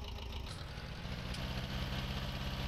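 A tractor engine idles steadily in a farming video game, a low continuous rumble with a rhythmic mechanical pulse that holds at an even, moderate level throughout.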